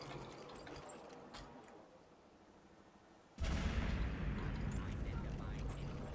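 A weapon firing in the video game Fallout 4, an abrupt loud blast partway through followed by sustained dense game noise, with a quieter stretch of game ambience before it.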